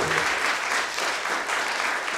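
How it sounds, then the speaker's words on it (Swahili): A church congregation applauds its pastor with loud, dense clapping that fills the room evenly for the whole moment. "Ongeza makofi kwa ajili ya mchungaji wetu."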